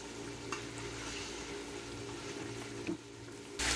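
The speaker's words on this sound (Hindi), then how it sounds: "तब हम आलू को गोश्त के साथ भून लेंगे।" Potatoes and mutton fry together in a pressure cooker, giving a steady, close sizzle with one brief clink of a utensil near the end and no talk.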